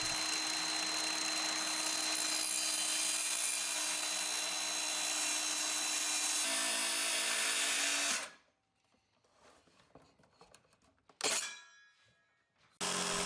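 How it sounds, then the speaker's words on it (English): A power saw cuts corner notches in a wooden shelf board for a workbench, a loud sustained whine for several seconds that cuts off, followed by quieter handling clatter and a short final burst. "I stop right at the corner with the table saw and then follow that up with either a hand saw or the jigsaw right up to the corner itself"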